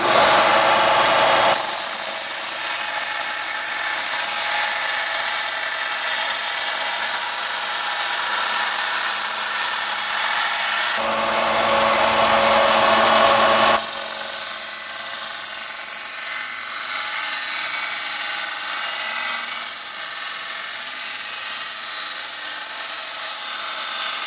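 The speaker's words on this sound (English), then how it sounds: "now I'm just going to sand this bevel out some more" A belt sander grinds a bevel with a loud, steady high-pitched whine and abrasive hiss. It stops briefly in the middle, then restarts and runs on continuously.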